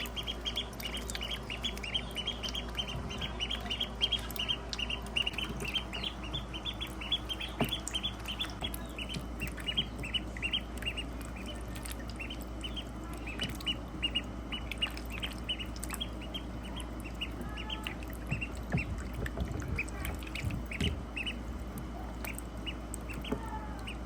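Pet ducks quack in a continuous busy chatter near at hand, mixed with chirps from other fowl and birds, with no talking.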